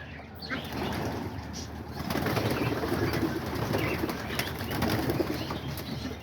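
Pet pigeons and doves leave their enclosure, their wings fluttering and flapping against a busy, rustling background while low cooing runs underneath, moderately close.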